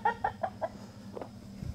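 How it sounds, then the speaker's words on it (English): Chickens outside on a farm in the morning give a quick run of four clucks, then a couple more softer ones, moderately close over a low steady background hum. "Chickens are already out enjoying the morning."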